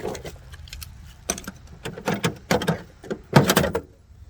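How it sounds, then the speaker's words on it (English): Stiff metal drawers of a vintage Snap-On KRA-53A portable toolbox scrape and clunk as they slide, in a run of uneven rattling bursts that grow louder near the end. "I still got to work the drawers out a little bit. I got to oil the drawers up."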